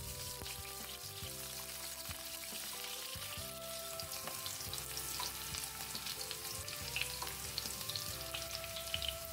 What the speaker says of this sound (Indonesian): Panaskan minyak goreng, tumis irisan bawang merah sampai layu.